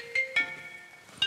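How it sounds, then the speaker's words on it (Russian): Phone ringtone for an incoming call: a quiet electronic melody of a few short tones with sustained pitches between them. "Кто-то у тебя звонит."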